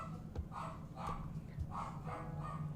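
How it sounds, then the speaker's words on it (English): A dog indoors at home barks at someone at the door, several muffled mid-distance barks in short bursts over a steady low room hum, no speech. "I think there's someone at my door, so I apologize if you can hear my dog"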